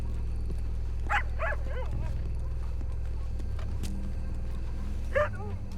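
Dog barking in Red Dead Redemption 2 at a cemetery, a few sharp barks in two clusters, moderately loud over a low steady background hum and game ambience.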